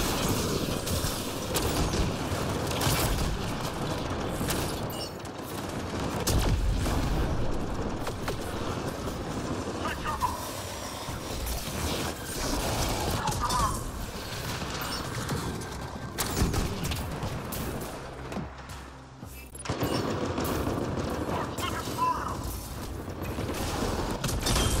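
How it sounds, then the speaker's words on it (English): Gunfire crackles through a busy Apex Legends firefight, with laser-weapon shots in repeated bursts over a constant wash of game noise, sustained and fairly loud throughout. "Yeah, keep shooting me with that laser of yours."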